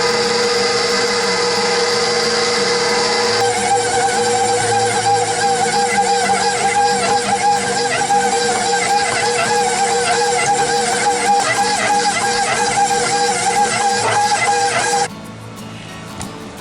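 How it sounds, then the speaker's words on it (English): A stand mixer's paddle kneads homemade pizza dough with a loud, continuous motor whir and rhythmic thumping of the dough, close up, before the sound drops abruptly near the end. "I let this dough paddle knead it for about 20 minutes."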